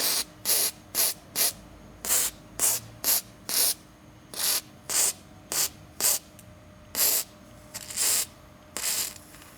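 An aerosol can sprays rust-dissolving liquid in a string of short, sharp hissing bursts, about twenty in all, each lasting under a second. The bursts come in an uneven rhythm with brief silent gaps between them, and no voices are heard.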